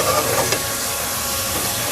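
Chicken pieces browning in a pan over medium heat for a chicken and potato curry, giving a steady, close, even sizzle and hiss with no voices over it.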